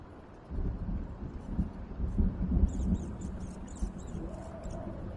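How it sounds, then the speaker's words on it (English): In the Spell Force III video game, a thunderstorm rumbles with a low, rolling thunder that builds and stays muffled and fairly quiet for several seconds, with faint higher crackles and no talk. "Great. A storm."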